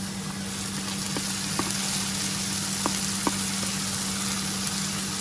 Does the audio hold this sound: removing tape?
no